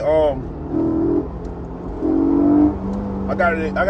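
Infiniti Q50 in second gear pulling from about 40 mph, engine note rising in a couple of revving surges close up inside the car, with someone talking over it at the start and end.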